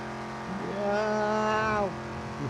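A car engine on a test lap in Car Mechanic Simulator 2021 rises into a steady, tonal, humming drone, holds it for about a second, then drops away. The sound sits over a constant low background.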